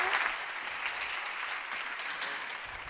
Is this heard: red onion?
no